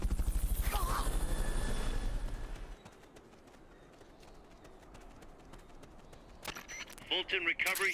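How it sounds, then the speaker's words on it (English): Fulton recovery in Metal Gear Solid: Peace Walker, a loud pulsing helicopter-like whir that cuts off after a few seconds, followed by quieter clatter and sharp game effects, with a voice speaking over it. "Fulton recovery subject confirmed onboard helicopter."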